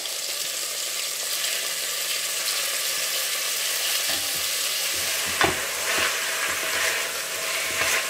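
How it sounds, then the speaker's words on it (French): Pieces of veal sear quickly in a hot pot with oil, giving a dense, continuous crackling sizzle. A few utensil knocks and scrapes come through partway in, and no one talks. "On récupère donc les morceaux de veau. On va les faire revenir rapidement."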